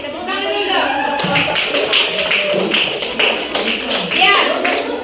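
Classroom students break into a short burst of clapping after a brief spoken voice, the claps close and lively before fading slightly.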